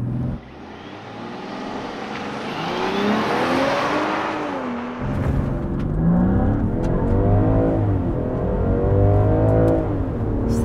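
A 2021 Land Rover Defender 90 P400 X Dynamic S with a 3-liter engine launching hard from a brake-boosted standstill, its engine note rising loudly through the gears with a shift break midway, heard from inside and continuous without speech.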